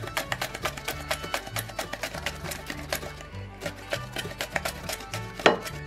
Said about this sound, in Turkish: Şimdi salatalıklarımı doğruyorum.